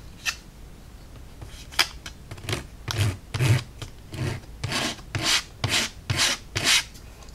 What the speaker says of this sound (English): we're going to use our emery board to sand all the edges smooth